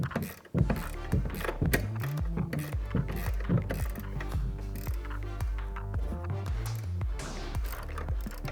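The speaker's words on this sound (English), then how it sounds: "We're gonna remove those with an 18mm ratchet wrench." An 18mm ratchet wrench backs off the strut top nuts on a 2014-2018 Silverado or Sierra, giving loud, close, rapid clicking in bursts with metallic knocks between strokes.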